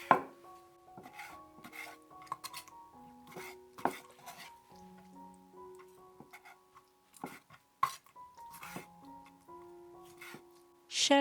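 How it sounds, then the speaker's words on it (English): A knife chops seafood into chunks on a board, sharp cuts coming in irregular clusters with pauses between, close and fairly loud, mixed with faint kitchen clatter and no talk. "Cut it into chunks."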